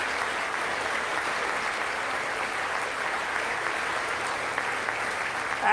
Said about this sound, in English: A lot of clapping tonight.